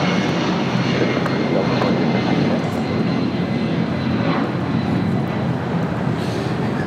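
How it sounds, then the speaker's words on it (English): A Delta Boeing 757-200 airliner roars through its takeoff run at LAX, a loud, steady, broadband engine rumble and whine that holds constant throughout with no voices. "This is Delta Airlines 437 taking off to Boston on the 757-200."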